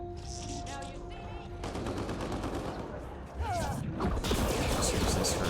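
Semi-automatic gunfire in the video game Mass Effect Andromeda during a zombie multiplayer match, rapid repeated shots fired in quick succession, loud and close, over game noise and effects.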